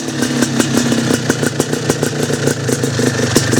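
A cold motorcycle engine fires up and runs with a steady, rapid clattering beat, loud and close, with no talk over it.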